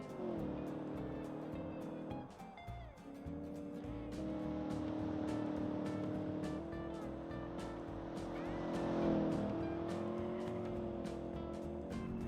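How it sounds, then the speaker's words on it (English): A 2-liter V8 car in a racing video game on radial tires with 165-section rears revs hard and spins its wheels, a steady loud engine drone with rising pitch sweeps, while someone talks over it. "revving the 2-liter V8 and starting off with a bunch of wheel spin"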